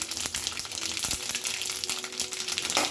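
Mustard seeds and fenugreek seeds sizzle and crackle steadily in hot oil while being fried for a raw mango chutney, a close, continuous hiss with small pops throughout.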